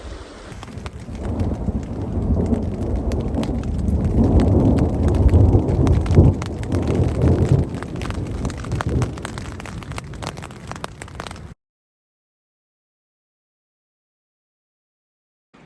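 Steady morning rain patters on a backpacking camp in Yellowstone's remote Thorofare wilderness after a night of lightning, a dense, continuous wash of drops swelling and easing for about eleven seconds before cutting to silence.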